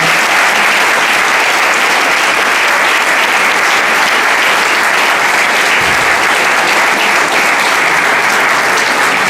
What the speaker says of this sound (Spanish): Un aplauso a los chicos